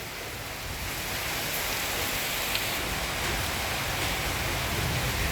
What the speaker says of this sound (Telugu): ఫుల్ వర్షం అయితే పడుతుంది ఫుల్గా